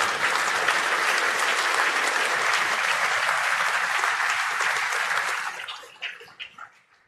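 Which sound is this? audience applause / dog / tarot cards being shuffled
audience applause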